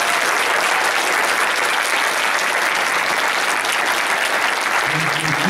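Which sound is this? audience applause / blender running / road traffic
audience applause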